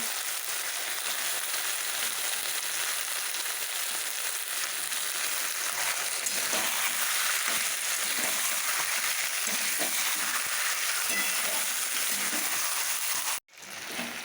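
Lime-juice-marinated chicken fries in spices in a pot, giving a steady, loud, close sizzle that hisses without pause for most of the time before cutting out abruptly near the end.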